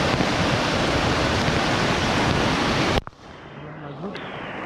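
Loud, dense roar of rushing floodwater during heavy rain fills the first three seconds, then cuts off abruptly to a quieter background.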